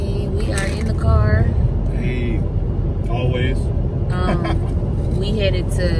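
Steady low road rumble fills a car interior while driving, constant and close, with people talking and music-like vocal lines running over it throughout.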